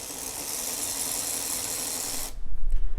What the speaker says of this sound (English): We are just going to disconnect the battery using a 10 millimeter socket.